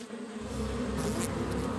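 Cartoon bees buzz in a steady, loud drone from an animated pony series, the hum swelling slightly after the start and holding continuously with no talk over it.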